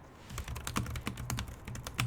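Rapid typing on a Logitech K380 Bluetooth keyboard, a dense run of crisp clicking keystrokes heard close up and alone, steady and continuous.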